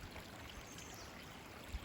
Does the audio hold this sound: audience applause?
no